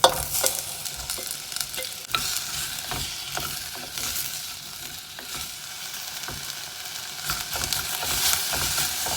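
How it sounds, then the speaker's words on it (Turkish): Garlic and onion sizzle steadily in a pan with ghee, a close, continuous frying hiss broken by scattered stirring scrapes and clicks, with no voices. "Ee, sarımsak biraz bir de soğan koyuyorum."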